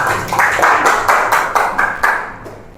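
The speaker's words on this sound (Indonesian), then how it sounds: "Oke, beri tepuk tangan." Audience applause in a classroom session, a short burst of sharp, quick handclaps from a small group that fades out after a few seconds.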